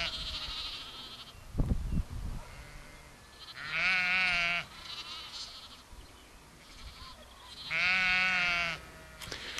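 A ewe and her week-old lambs bleat in a field on the North York Moors, two drawn-out, wavering bleats standing clear above quiet outdoor background, with a brief knock or thump just before.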